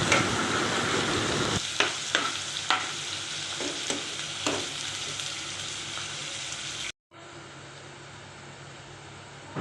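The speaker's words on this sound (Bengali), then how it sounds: "পেঁয়াজগুলো হালকা বাদামি করে ভেজে নেব।" Chopped onions fry in mustard oil with nigella seeds, giving a steady close sizzle with several sharp stirring scrapes and clatters; a brief cut near the end is followed by quieter, even frying.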